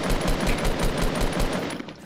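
Rapid automatic gunfire from a battle-royale duos video game, a steady rattling burst of repeated shots running throughout, loud and close.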